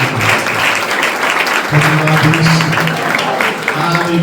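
A church congregation claps during a worship service, with dense, sustained applause throughout and voices mixed in.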